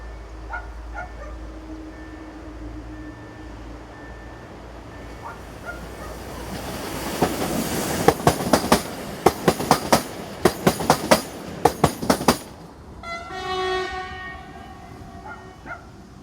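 A Class 140 electric multiple unit, number 36WE001, owned by regional railways and running a service for Kraków, rumbles past with rising noise, a burst of rhythmic wheel clacks over rail joints, then a horn-like tonal sound near the end.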